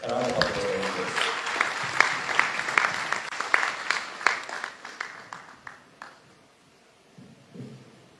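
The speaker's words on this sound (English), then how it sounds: "A round of applause, please." Applause from the audience at a July 2022 graduation ceremony at the Indian Institute of Hardware and Technology in The Gambia: a dense burst of clapping with a voice over the opening, tapering off into a few scattered claps and near-silence by the end.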